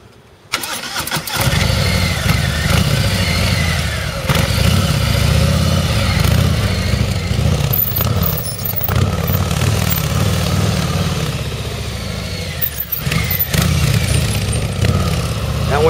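A 2019 Harley-Davidson Softail motorcycle rumbles steadily through tight low-speed turns, its engine loud and close with a continuous low throb that rises and eases slightly, plus a few brief clatters near the start and middle.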